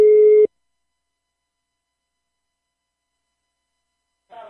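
A phone call's ringback tone sounds as a single steady electronic beep that cuts off, followed by silence, with a faint voice returning at the very end.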